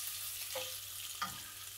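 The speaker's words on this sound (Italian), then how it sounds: "lo facciamo rosolare per bene in modo da farlo diventare bello croccante" Guanciale fries in a pan until crisp, giving a short, steady sizzle with a couple of small pops.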